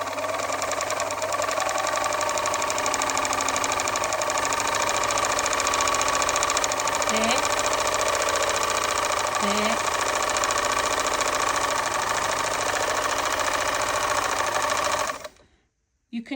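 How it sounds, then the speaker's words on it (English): A Bernina 730 Record sewing machine with a cracked nylon gear runs steadily and close for a long stretch, its rapid mechanical clatter constant with faint periodic shifts, before stopping near the end; a voice speaks briefly. "I'd like you to listen to the machine for a second."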